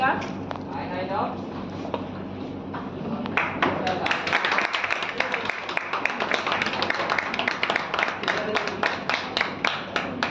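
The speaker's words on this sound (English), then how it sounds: "So big round of applause." A crowd's applause rises after a brief stretch of voices, with many hands clapping steadily and fairly close for several seconds.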